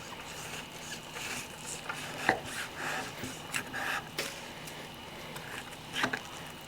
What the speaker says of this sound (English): The knife I'm using today, again, is my 8-inch chef's knife from New West Knife Works.